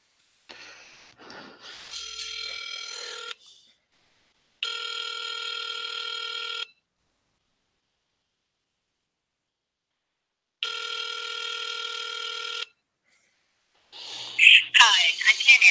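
A handset ringback tone on an outgoing call sounds in two long, evenly spaced rings separated by silence, with brief breathing and handling noise before and after.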